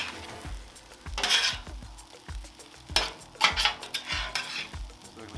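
Spatula scraping and clacking on a 36-inch Blackstone flat-top griddle as chopped egg is stirred into sizzling pulled pork fried rice, with steady frying hiss and repeated metallic taps, close and alone.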